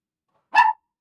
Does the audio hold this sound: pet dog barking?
yes